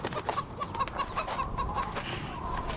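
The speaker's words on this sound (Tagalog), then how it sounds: "gusto niyo bang bumili ng manok?" Chickens cluck repeatedly in short, close, choppy calls over a noisy outdoor background in a historical drama film, with no speech during the clucking.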